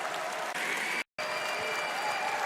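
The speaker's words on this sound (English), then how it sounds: "Please make some noise for Roger from 9 Pandas." A large esports tournament crowd at a Dota 2 major in Berlin applauds and cheers in a dense, steady roar, with a brief cut to silence midway before the applause resumes.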